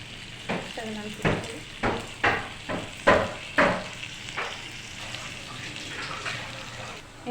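A lime-sized lump of tamarind is washed by hand in water, giving a run of rhythmic close splashes and sloshes that then settle into a softer, continuous watery churn.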